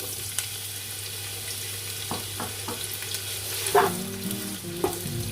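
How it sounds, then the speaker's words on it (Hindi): Two chopped onions fry in half a cup of hot oil in a deep cooking pot, with a steady sizzle and a few sharp clinks and scrapes of stirring. "अब इसमें मैं 2 कटे हुए प्याज जो है वो ऐड कर रही हूँ"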